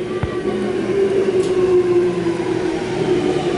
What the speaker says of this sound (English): here comes my train to Tallawong.